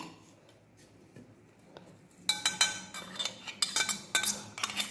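Coarsely ground dal lentils for homemade pickle masala scraped and spooned into a bowl, with a quiet start followed by a burst of clinking and scraping taps of metal on dish, close and alone.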